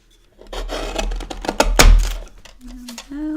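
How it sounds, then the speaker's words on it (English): A paper trimmer's blade slides across a handmade pop art card, giving a short rasping cut with a soft thunk near the middle and light handling noises around it, close up and moderately loud. "I'm going to trim this top part."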